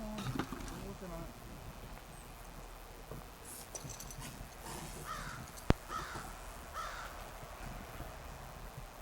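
Crows caw outdoors on a snowy hillside, several distinct calls spaced a second or so apart, moderately distant, over steady wind-like background noise with a sharp click midway.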